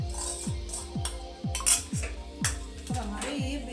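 A metal spoon scrapes leftover masala for stuffed brinjal into a kadhai in a quick, regular series of about eight close, clinking strokes, with lighter clatter in between.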